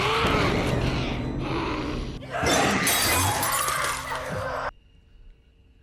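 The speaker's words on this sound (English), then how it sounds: "smashing objects in a violent outburst" Glass shatters violently in a horror film scene as objects are smashed in a kitchen, a loud dense crash with a second burst of breaking midway, then an abrupt cut to near silence.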